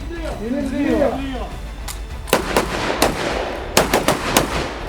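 Voices talk at first, then a series of sharp rifle gunshots cracks out one after another at irregular intervals, echoing outdoors at a shooting range during recruit training.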